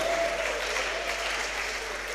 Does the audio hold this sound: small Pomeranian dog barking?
no